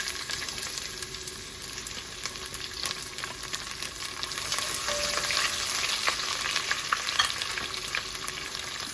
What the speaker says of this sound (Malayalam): ഇനി ഇതിലേക്ക് ഇഞ്ചി, വെളുത്തുള്ളി, പച്ചമുളക് അരിഞ്ഞിട്ട് കൊടുക്കും.